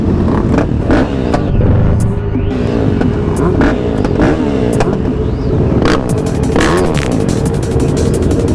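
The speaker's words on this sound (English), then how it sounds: "Everybody's doing wheelies behind me." Several street motorcycles revving hard as riders pull wheelies on a road, a loud continuous engine roar with surging throttle blips that rise and fall throughout.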